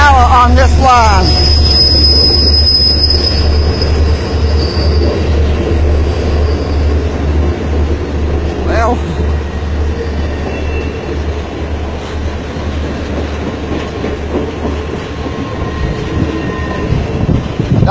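Ringling Brothers circus train hauled by CSX locomotives rumbles past near Pax, West Virginia on its last run, a loud continuous low roar of engines and rolling wagons with a brief horn-like tone, and a voice speaks briefly over it.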